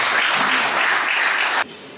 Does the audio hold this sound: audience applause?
yes